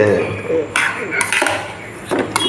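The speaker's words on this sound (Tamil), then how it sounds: "இப்போ நல்லா கரண்டியால் சேர்த்து" A metal ladle scrapes and clinks inside a pot while stirring cooked ven pongal, giving several close metallic knocks and scrapes in quick succession.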